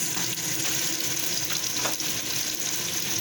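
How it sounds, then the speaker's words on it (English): Chopped potatoes frying in a vegetable biryani mixture, a dense continuous sizzle with faint stirring scrapes, close and steady with no talking. "I'm going to stir that mixture. I'm going to add my chopped potatoes"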